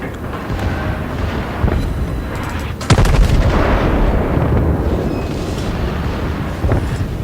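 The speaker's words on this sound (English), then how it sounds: "Come on, secondary guns." Warship secondary guns firing in the World of Warships naval combat game, a dense rolling barrage of loud booms with a sharp heavy blast near three seconds, continuous battle rumble throughout.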